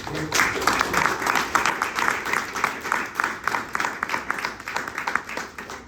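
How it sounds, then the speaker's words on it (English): Audience applause at a sociology lecture at UCSC, a steady wash of many hands clapping at moderate volume for several seconds, fading slightly toward the end. "Okay, please give a round of applause"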